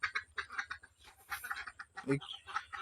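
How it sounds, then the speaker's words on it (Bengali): Ducks quacking nearby in a rural setting, several short, raspy calls in quick bursts, faint and mixed with background voices. "দেখেন ওই হাঁসগুলো চলাচল করতেছে"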